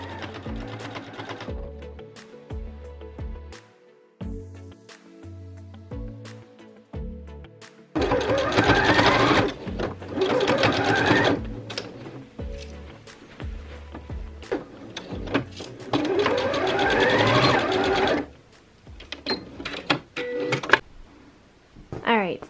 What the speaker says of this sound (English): And then we're gonna sew that together to attach our skirt to our bodice.